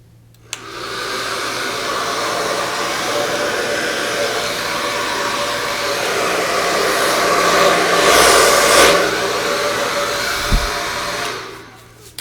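A steady, loud airy blast plays over freshly flooded resin in a Dutch pour beachscape, swelling slightly near the end before cutting off, with no voices.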